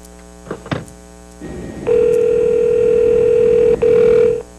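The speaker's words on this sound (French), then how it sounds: "Appelons Sœur Lucia." A telephone line is picked up with a few handling clicks, then a dial tone starts and a loud, steady tone holds for several seconds, broken once by a brief gap.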